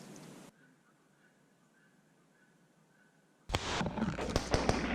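Heavy ordnance explosions in a WWII battle scene, a loud burst at the start, a quiet gap with a faint tone, then a sustained barrage of crackling blasts.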